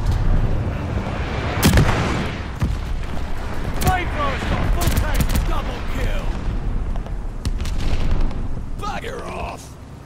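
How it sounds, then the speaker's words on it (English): A light bomber airstrike in Call of Duty: Vanguard, with heavy rumbling booms and scattered gunfire layered over a low, sustained battle roar, while game voice lines call out over the noise. "Light bomber assist coming in."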